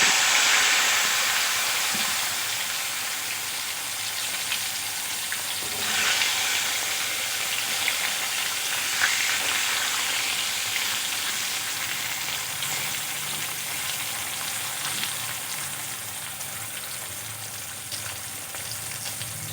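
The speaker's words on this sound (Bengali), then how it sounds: "তেলের মধ্যে আমি এখন কলাগুলো ভেজে নেব।" Green bananas fry in hot oil for a rohu fish curry, with a continuous bubbling sizzle and hiss that swells slightly at times and runs the whole stretch, close up and without speech.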